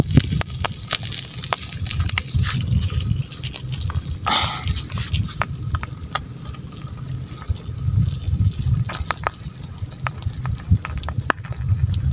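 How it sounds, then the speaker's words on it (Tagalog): An outdoor wood fire burns strongly under grilling fish, giving a steady crackle with frequent sharp pops and snaps over a low rumbling roar, close and continuous, with a brief dog-like yelp in the middle. "Yan ang mga kabida, malapit na yun maluto. Kunting tiis na lang. Malakas yung apoy."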